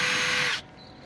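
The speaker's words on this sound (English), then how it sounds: "what we're going to do is we're just going to pre-drill" A power drill pre-drills through a fence panel into a post, giving one loud, close whirring burst of about half a second that then cuts off abruptly.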